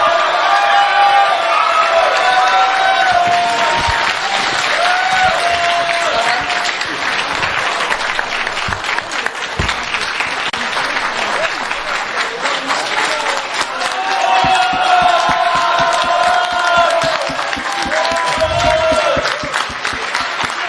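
A large crowd at a 2021 anniversary celebration event applauds and cheers for Raheem Kassam, loud sustained clapping with whoops and voices throughout, swelling again toward the end.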